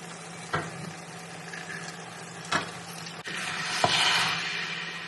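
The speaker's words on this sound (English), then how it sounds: "While my food is cooking" Food sizzles softly in a pan with a steady low hiss, broken by a few sharp utensil clicks and a slight swell in sizzling toward the end.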